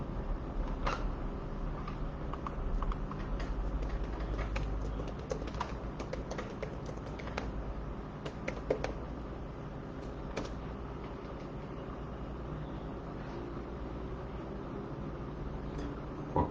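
Someone types a message on a computer keyboard, with soft irregular key taps over a steady low room hum, quiet and close, with no speech.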